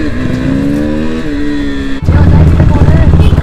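Royal Enfield Bullet motorcycle engine revving loudly on the road during an informal race, a steady droning note that shifts pitch, then a louder, rougher burst as revs climb, with a voice talking over it.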